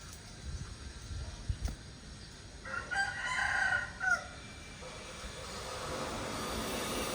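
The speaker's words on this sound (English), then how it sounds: "My neighbor loves keeping roosters like these." Roosters kept beside a low-income family's slum house in Vietnam crow once, a harmonic call rising near the middle, heard at moderate distance over steady rural background noise with faint rustling and no talking.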